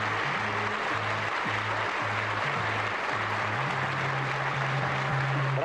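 A theatre audience applauds steadily and densely for footballer Roberto Bettega on a 1972 Italian television quiz show, the clapping a continuous wash at moderate distance while a low hum runs underneath.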